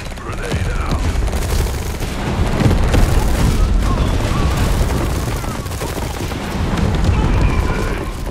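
Grenade blast and sustained gunfire in the Tempest Rising strategy game, GDF faction battle on hard mode: a dense, continuous roar of shots and booms that swells and eases throughout, with no pause in the combat noise.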